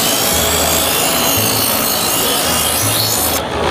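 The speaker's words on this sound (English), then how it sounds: "to demonstrate how a steel knife is sharpened, we start in stage one of the sharpener. Pull the knife through at a slow speed" Steel knife is pulled slowly and evenly through the first stage of a diamond knife sharpener, giving a loud, close, continuous gritty rasping scrape that ends abruptly.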